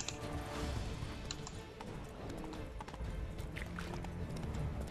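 Horse hooves clopping in The Witcher 3 while riding, a quick rhythmic clip-clop under game ambience and occasional clatter, steady and moderately close throughout.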